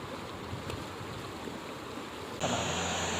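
Fast-flowing river water near a temple, a steady rushing wash heard close by, growing a little louder and brighter toward the end.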